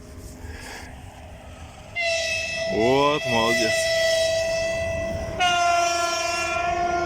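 A passing train sounds its horn in steady, loud harmonic blasts, with a brief break and a second sustained blast, over a background rail rumble; someone speaks briefly partway through.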